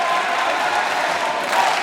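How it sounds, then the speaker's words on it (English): Crowd at a Paralympic badminton match in Paris applauding and cheering steadily, a dense, loud wash of clapping and voices that holds throughout with a slight swell near the end. "The crowd were loving it."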